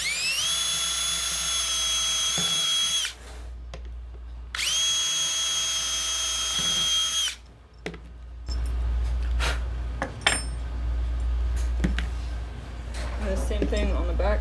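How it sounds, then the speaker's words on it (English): A power drill pilot-drilling holes for tie downs with a 9/64 drill bit, two sustained high-pitched whining bursts of several seconds each, followed by clattering handling sounds and a low steady hum. "we're going to pilot drill them. This is a 9/64 drill bit"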